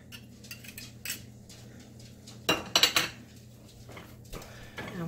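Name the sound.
garlic clove pressed through a garlic press and mixed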